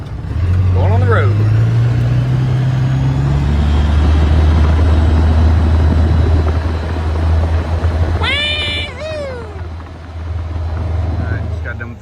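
A Polaris Ranger UTV with no power steering drives on a road, its engine a loud, steady drone with a rising pitch early on and a strong low rumble throughout, alongside a brief high squeal in the middle.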